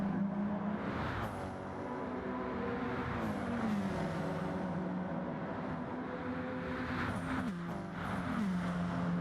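Race cars circle a track in a championship race, engine drones rising and falling as several cars pass, layered pitch sweeps blending into a continuous roar heard from a distance.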